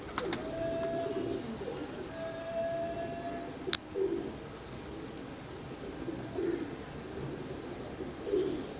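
Hercules breed pigeons coo softly on a rooftop, a few low, spaced calls over faint background noise, with one sharp click partway through.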